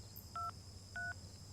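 Two short dual-tone telephone keypad beeps, evenly spaced about half a second apart, over a low steady hum.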